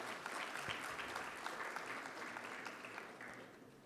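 Crowd at a Sharda Hospital ceremony applauding a healthcare lifetime achievement award recipient: steady, distant-sounding clapping from many hands, with a few louder claps near the start, easing off slightly toward the end.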